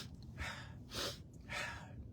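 Three short, forceful breaths pushed out in quick rhythm during a 'temper tantrum' breathing exercise, close and breathy, with no talking.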